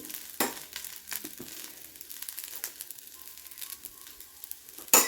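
A crisp dosa fries in hot oil on the pan, giving a faint, crackly sizzle with scattered pops and light scraping, quiet and without talk.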